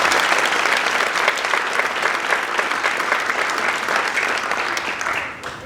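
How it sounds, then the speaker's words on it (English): Audience applause at a school band winter concert, dense steady clapping from a large crowd that holds strong for several seconds and then begins to taper off at the end. "Can we give them a round of applause?"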